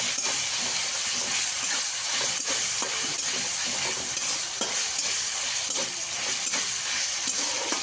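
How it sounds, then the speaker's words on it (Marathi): Goat mutton masala sizzles and fries steadily in a pan as tomatoes are stirred in, a continuous close, loud hiss with soft scraping stir strokes throughout. "आता ह्याच्यामध्ये टोमॅटो टाकून घेऊया हलवून घेऊया थोडंसं"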